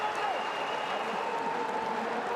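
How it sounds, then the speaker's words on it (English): A home crowd roars and applauds at a Georgia versus Spain basketball game, a steady loud arena wash of cheering with a commentator talking over it. "Well, this home crowd galvanized."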